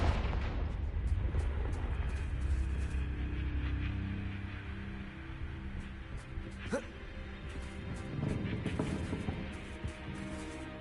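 Confringo fire spell blasts in the game Hogwarts Legacy, deep booming explosions rumbling under game music and effects, with a few sharper bursts standing out.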